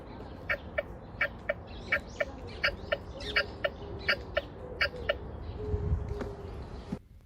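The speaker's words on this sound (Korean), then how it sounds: "오른쪽 버튼은 비상등 소리가 납니다" A steady series of short, evenly spaced electronic chirps from a BMW X5 toy push car's hazard-light button, repeating about a dozen times, with a low rumble near the end.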